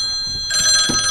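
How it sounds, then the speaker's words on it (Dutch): A telephone in a studio suddenly starts ringing partway through, a bright electronic trill with rapid repeated pulses, loud and close after a brief quiet lead-in. "Telefoon!"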